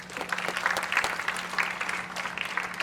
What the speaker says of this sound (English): The applause was a little low